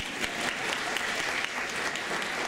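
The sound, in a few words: audience applauding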